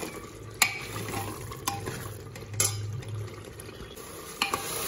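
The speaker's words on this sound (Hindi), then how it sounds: "हमें इसे अच्छे से भूनना है।" Minced meat keema frying in a pan, a low continuous sizzle broken by several sharp scraping clanks of a spoon stirring against the metal, close and fairly loud.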